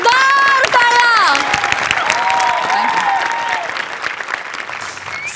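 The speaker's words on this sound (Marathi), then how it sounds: "या कडक परफॉर्मन्ससाठी जोरदार टाळ्या." Loud audience applause and cheering after a performance, dense clapping that starts strong and slowly thins, with a few shouts and a high vocal sound near the start.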